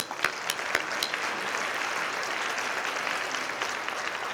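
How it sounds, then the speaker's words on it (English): Steady applause from an audience at a West Covina State of the City event, honoring the city's mayor, with dense clapping sustained evenly throughout at moderate level. "So let's give him a round of applause."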